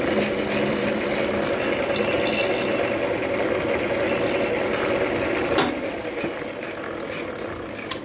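A milling machine cuts steel on a thread insert holder, a loud, steady grinding and chattering drone with a sharp clunk near the end, no voices.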